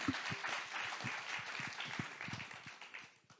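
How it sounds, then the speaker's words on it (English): Conference audience applauding a speaker at a renewable energy financing event in Seville, a steady wash of many hands clapping with scattered sharper claps, fading toward the end. "Let's give her a round of applause."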